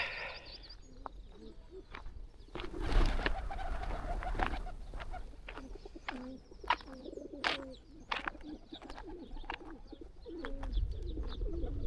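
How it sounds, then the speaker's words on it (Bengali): A large flock of pigeons gathered where people leave food coos softly and continuously, with scattered wing flaps and faint chirps at a moderate distance and no talk. "কবুতরগুলো একটু উড়িয়ে দিই, দেখি কেমন লাগে।"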